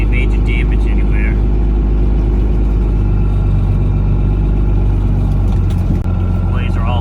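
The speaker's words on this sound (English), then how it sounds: "I'm sorry about the noise in the truck here." Steady low engine drone and road rumble inside a truck cab while driving on a Maine road after an ice storm, loud and constant throughout, with faint talk.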